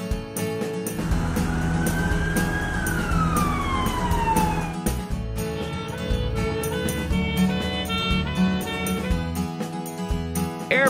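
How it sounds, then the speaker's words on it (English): One sweeping siren wail from a cartoon ambulance van climbs and then drops early on, followed by continuing bouncy cartoon music with no speech. "Ambulance van."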